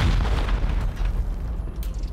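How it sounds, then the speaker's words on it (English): Rocket blasts hammer armored base walls during a video game raid, a dense run of heavy booming explosions rolling together at close range with no speech over them. "We'll send four rockets."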